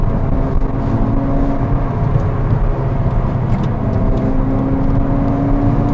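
A 2008 Mini Cooper S turbo pulls hard at full throttle, its loud engine roar and whir continuous and close, joined by road and wind noise, with no talking.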